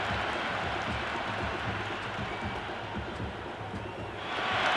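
Stadium crowd noise from the cricket video game Cricket 26 during an India versus Pakistan match, a steady broad roar with a low murmuring bed throughout, swelling slightly toward the end.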